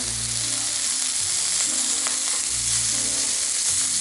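Lamb chops fry in a pan with a loud, steady, dense sizzle that holds without a break from start to finish, and no voices are heard.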